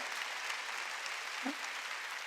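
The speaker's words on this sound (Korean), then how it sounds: "깨달은 사람만 박수 치라고요" A church congregation at a Sunday worship service claps together, a steady, even wash of many hands heard at low level and somewhat distant, with no voice over it.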